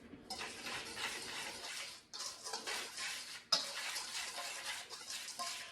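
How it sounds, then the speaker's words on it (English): Flour, baking powder, salt and sugar whisked in a bowl, heard as a steady close rattling swish in three bursts separated by brief pauses, with no talk. "And we're gonna give that a whisk"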